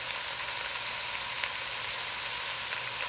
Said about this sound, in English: You know how to brown ground beef.